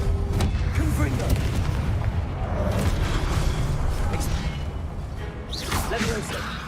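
A Confringo fire spell in a Harry Potter video game bursts in a heavy booming explosion with rumbling low roar and whooshing debris, loud and continuous amid game combat noise, with a player voice casting spells.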